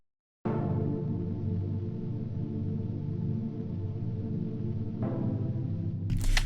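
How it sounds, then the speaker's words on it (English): An Omnisphere Dynatransfer synth patch holds a sustained, lush trance-style chord with a thick harmonic layer, steady and alone, with a slight shift near the end. "It is the Dynatransfer patch, which sounds like this."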